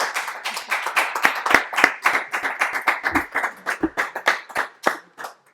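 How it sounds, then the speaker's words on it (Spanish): An audience at a Spanish-language lecture claps: a fairly sparse group of distinct, close handclaps in an irregular patter that thins out and stops near the end. "Adelante y un fuerte aplauso para Nicole Hochstetler."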